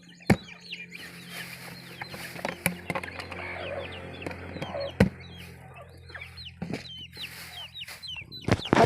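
Chickens cluck near and far amid a busy rural farmyard in the Philippine countryside, with a steady low hum underneath and occasional sharp knocks.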